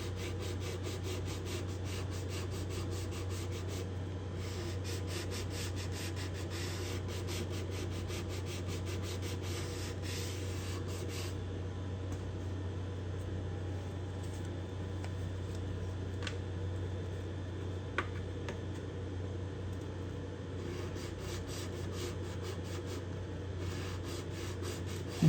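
Hand sanding on wood with 120-grit sandpaper at a guitar heel cap, a steady soft rubbing close by that continues for the whole stretch over faint background hum, with no one speaking.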